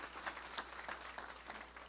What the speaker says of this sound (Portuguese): Uma salva de palmas para o Carlos Wizard.